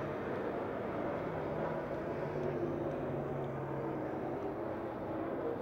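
Race cars circle the banked oval at Pennsylvania Motor Speedway near Pittsburgh during a late-race battle, producing a steady, distant engine roar that holds unbroken with no voices.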